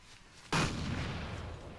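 A T90 tank's fire destroys an M1 tank in the Arma 2 game: a sudden loud blast erupts after a short quiet lead-in, then a rumbling explosion sustains to the end.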